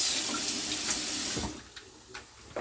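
Eggplant rinsed under a running kitchen tap makes a close, steady splash of water that thins out halfway, leaving softer trickles and small knocks.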